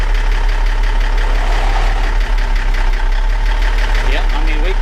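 A truck engine idles steadily near the microphone on a big grapple rig, a constant low mechanical rumble with a faint hiss as air pressure builds, under occasional talk.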